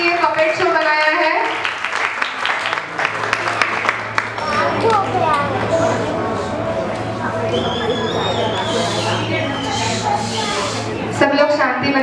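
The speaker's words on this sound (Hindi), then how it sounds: "एक बार मोना आंटी के लिए जोरदार बच्चों तालियों से स्वागत करें आंटी का" Young children clap loudly together in a crowd at a Jain shadow puppet show, the clapping mixed with excited chatter and a steady low hum, fading and then rising again near the end.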